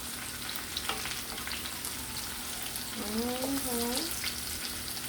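Sauce with stock cooking down in a pan over a high flame in a Rasta kitchen, giving a steady close sizzle and bubbling with a short voiced sound partway through.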